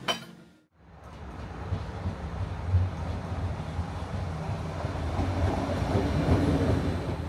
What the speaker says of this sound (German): Am Bahnhof Staben besteigen wir heute den morgendlichen Zug nach Meran.